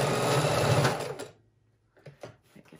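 A sewing machine runs a straight stitch through fabric for a file folder book cover, a steady fast whirring burst that stops abruptly, followed by a few faint clicks and handling sounds.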